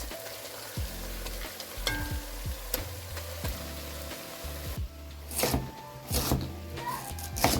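Meat frying with browned onions in a pot for plov, a steady sizzle broken by sharp clinks and scrapes of a utensil stirring, near and moderately loud.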